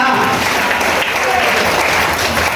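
An audience at a seminar hall claps steadily and loudly, dense applause filling the room without a break.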